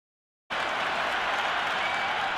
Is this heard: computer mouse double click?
no